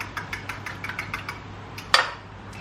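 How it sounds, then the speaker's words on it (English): Eggs whisked into a milk and olive oil mixture in a bowl for a savoury cake batter, a quick run of light clinks and scrapes in a kitchen that ends with one louder knock, over a low steady hum. "And then I add my eggs to my milk and olive oil mixture. And then I just mix this up."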